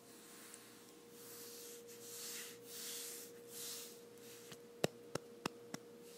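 Soft hand rubbing over a belly in an ASMR roleplay, slow gentle swishing strokes that rise and fall, very quiet and close, followed by a few crisp ticking taps near the end, with no talking.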